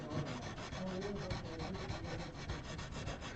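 Sandpaper rubbing over plastic on an Ibanez guitar made in Japan, a continuous scratchy back-and-forth sanding at close range, steady and fairly quiet, with no talking.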